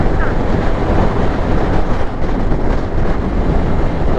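Loud, steady wind roars and buffets against the microphone without letup, a dense rushing noise heard while riding a Yamaha R15 motorcycle in Ilocos, Philippines.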